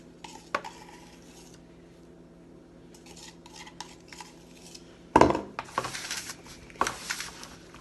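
Homemade fake snow made with conditioner being stirred in a bowl: quiet scraping and crunchy stirring, with a louder burst of mixing and scooping past the midpoint.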